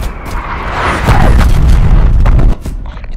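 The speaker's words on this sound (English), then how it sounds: "Artillery inbound." A loud incoming artillery explosion in the Call of Duty: Black Ops Cold War video game, a close heavy boom swelling into a sustained roaring blast for about two seconds before cutting off sharply.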